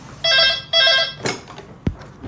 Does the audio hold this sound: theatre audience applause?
no